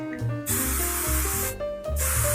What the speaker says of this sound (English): I'm just going to spray a liberal amount of whichever high hold hairspray I want